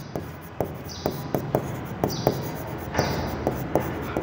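A pen scratches out short, rhythmic writing strokes, each a quick close scrape in an uneven series, with no talking.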